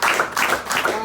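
A small audience claps steadily through a short burst at an informal Christmas review gathering, the applause loud and close with a voice partly audible underneath.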